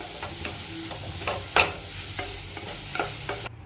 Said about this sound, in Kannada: ಸ್ವಲ್ಪ ಹಾಕ್ಕೊಂಡು ಚೆನ್ನಾಗಿ ಮಿಕ್ಸ್ ಮಾಡ್ಕೊಳ್ತೀನಿ